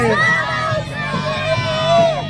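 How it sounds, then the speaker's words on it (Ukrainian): A crowd of children at a school charity fair shouts together in unison, a loud, bright burst of young voices with a lingering chorus under nearby babble. "Давайте разом крикнемо. Слава Україні!"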